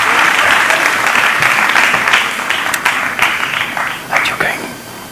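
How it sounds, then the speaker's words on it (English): Audience applause for a panel of speakers at a Nobel Prize dialogue event in India, a dense, loud burst of clapping from a large crowd that slowly thins and tapers over about five seconds. "A big round of applause, please."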